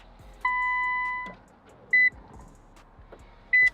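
Switching on the ignition of a rebuilt 1000hp Nissan GT-R sets off its warning chime: one long clear tone, then two short beeps a moment apart, close and loud in a quiet garage.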